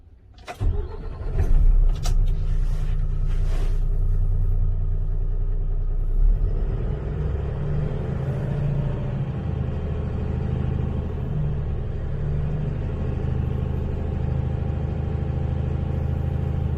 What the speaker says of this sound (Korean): 시동을 걸고 RPM을 올려보겠습니다. 엔진 소리에 집중해주세요.